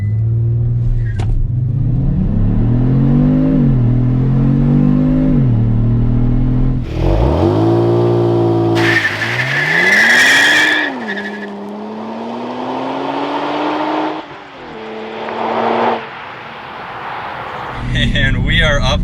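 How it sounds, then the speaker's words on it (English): A 2022 Kia Stinger GT2 RWD launching under launch control: loud, close engine revs climb and drop through several gear changes, with a brief tire squeal, rumbling exhaust and faint voices. "we are going to start off with launch control"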